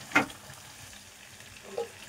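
Pointed gourd fries in a pan with a soft, steady sizzle, marked by two brief louder crackles or stirring scrapes.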